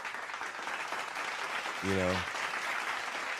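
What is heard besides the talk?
audience applause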